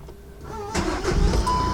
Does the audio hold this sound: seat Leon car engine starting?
yes